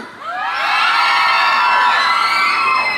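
A crowd of fans lets out a loud, sustained high-pitched scream that swells quickly and holds for a few seconds.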